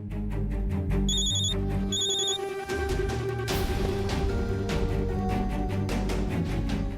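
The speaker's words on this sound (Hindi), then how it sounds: "40 बार तू चड्डा का फोन काट चुका है" A phone rings repeatedly in a Hindi TV drama, the bright electronic trills coming in short bursts over a loud background music bed, close and prominent with no talking.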